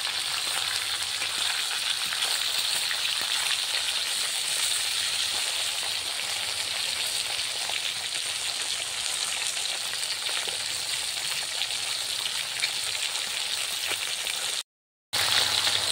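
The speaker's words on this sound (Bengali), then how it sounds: "দেখো গরম তেলে ভালো করে ভাজা হচ্ছে, মাথাগুলোকে ভাজা হচ্ছে।" Rohu fish heads fry in hot oil with a dense, steady sizzle and crackle that carries on close and loud throughout, broken only by a brief cut near the end.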